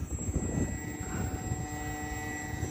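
HobbyZone AeroScout S 1.1m RC plane flying at low throttle, between a quarter and half, a steady buzzing electric motor and propeller drone holding an even pitch, fairly close.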